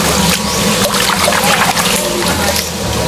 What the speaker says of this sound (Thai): อันนี้ล้างน้ำเย็นก่อนเนาะครับ